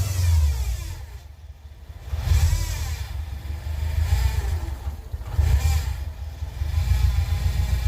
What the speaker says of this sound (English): She's revving it a little.